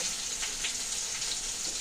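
Fish sizzle steadily in hot oil in a pan, a soft, even hiss with faint spattering and no talk.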